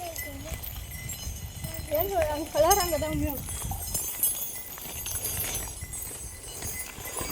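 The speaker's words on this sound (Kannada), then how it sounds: "ದನ ಮತ್ತೆ ಮತ್ತು ನೀರ ಕುಡಿತಾವು ನೀರು ಕುಡಿಯಾಕ ಬಂದಾವ" Cattle coming to drink water, hoof clops and animal movement heard faintly under steady talking, with a few short bellow-like calls in the middle.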